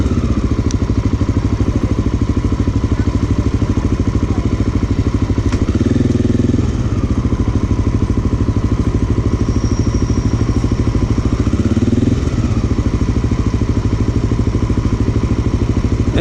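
A Honda XR650L motorcycle being ridden through city streets: a steady, loud single-cylinder engine drone with wind rush, rising briefly in revs twice as the bike accelerates.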